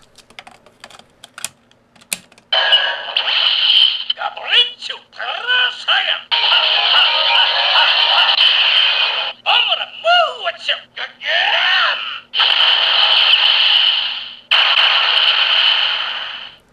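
Loud electronic effects from a DX Parasagun toy gun: bursts of harsh buzzing static, warbling siren-like tones and beeps, in repeated segments separated by brief pauses.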